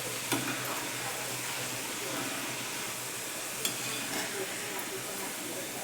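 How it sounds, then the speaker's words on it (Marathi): Chana dal frying in hot oil over high heat, a dense continuous sizzle and crackle with a few faint stirring clinks, close and steady throughout, no voices. "अशी चांगली मस्त लाल होईपर्यंत तळायची ती डाळ"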